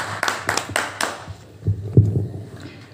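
A church congregation gives a short burst of hand clapping in welcome, several quick claps close together that soon fade, followed by a few soft thumps.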